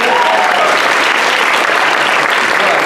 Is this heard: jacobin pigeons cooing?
no